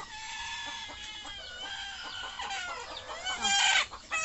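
Backyard hens cluck and cackle near a laying spot, with a steady run of clucks and a louder cackling burst toward the end, no speech.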